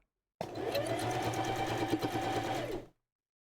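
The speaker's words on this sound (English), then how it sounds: "just the sewing machine noises could be ASMR-ish" A sewing machine runs steadily for a few seconds with a constant mechanical whir and hum, close up, then stops abruptly.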